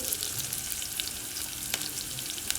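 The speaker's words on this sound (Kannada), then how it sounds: "ಈರುಳ್ಳಿ ಸ್ವಲ್ಪ ಫ್ರೈ ಆಗಲಿ." Onions frying in a pan give a steady, quiet sizzle with soft crackles and a couple of sharp pops near the end, and no talking.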